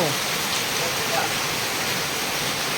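A steady, dense hiss of heavy rain pours without pause, broad and constant throughout.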